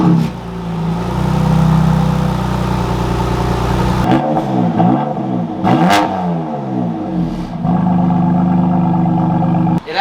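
BMW M2 Competition with a new mid pipe barking to life, then settling into a loud raspy idle with sharp blips of throttle, close by, with people talking faintly.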